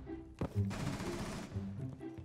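Shotgun fire in Rainbow Six Siege: a sharp blast, then a longer burst of loud gunfire lasting about a second over a low game rumble, followed by quieter background noise.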